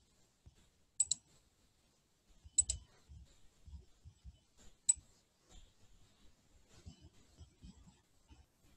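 Mouse clicks while working in Best Practice clinical software on the My Health Record and Shared Health Summary screens: three sharp isolated clicks spaced a couple of seconds apart, with faint soft desk handling noises between them and no talk.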